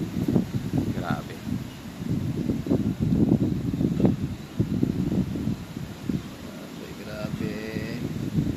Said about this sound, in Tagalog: Hangin na yung pumalit.